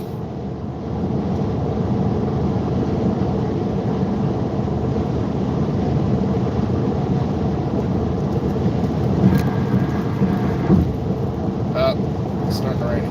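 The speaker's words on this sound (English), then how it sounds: "It's starting to rain again." Thunderstorm with rain, a continuous loud rushing wash of rainfall with a low rumbling bed, steady throughout, with a few faint sounds near the end.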